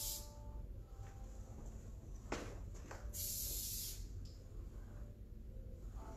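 Spray wax hisses from a can onto hair in a barbershop: a few brief sprays followed by one longer, steady burst, heard over a low background hum.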